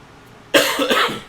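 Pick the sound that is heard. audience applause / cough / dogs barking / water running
cough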